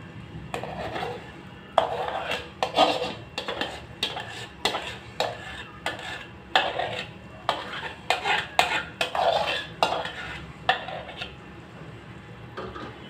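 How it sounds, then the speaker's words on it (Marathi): Sweet gul papdi mixture is spread across an oiled steel plate, giving repeated close scraping and clinking of a spoon against metal in an irregular rhythm, with no talking. "आता हे तयार झालेलं आहे, आपण ताटात टाकूया तेल लावलेलं"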